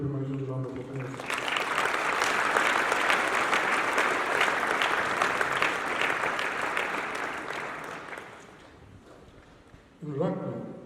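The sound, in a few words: audience applause at school speech day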